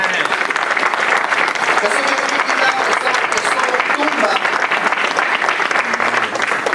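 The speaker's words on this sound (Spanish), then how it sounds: "le doy un aplauso a Él" A church congregation claps together in steady, dense applause that fills the room from start to finish, with some voices mixed in.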